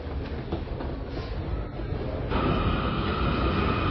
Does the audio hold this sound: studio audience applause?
no